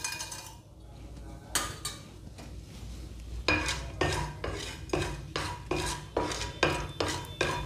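Mustard and cumin seeds with chana dal and urad dal temper in hot oil as a spoon scrapes and clinks against the pan in quick, regular stirring strokes, growing more rhythmic toward the end.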